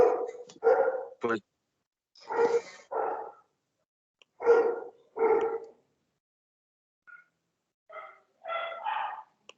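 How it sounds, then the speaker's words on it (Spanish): Several neighbouring dogs bark in short bursts, a few yips and whimpers among them, moderately close, with a brief spoken word near the start and a quieter pause before more barking resumes. "si se escuchan los perros de mi vecino"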